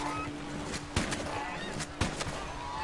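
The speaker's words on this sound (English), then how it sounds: "Goose." Geese honk a few times in Red Dead Redemption 2, short calls over a steady game ambience with a couple of sharper bursts that may be gunshots.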